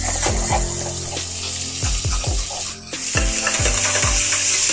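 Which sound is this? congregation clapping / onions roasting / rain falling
onions roasting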